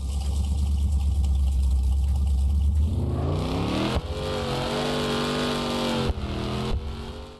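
Car engine in the Underground Racing mobile game, first a low steady idle, then a loud rising rev climbing through the gears with two brief drops as it shifts, close and clear with no talk.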